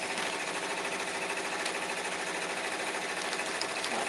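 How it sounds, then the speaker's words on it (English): An embroidery machine runs continuously nearby with a rapid, even mechanical chatter and hum that stays steady for the whole stretch, with no talk over it. "Hopefully you all can hear me over the embroidery machine because I want it to keep running."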